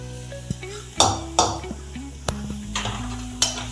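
Food being scooped out of a heavy, very hot kadhai after cooking phodnichi poli: a spoon scrapes and knocks against the metal in several sharp, close clanks over a steady low hum.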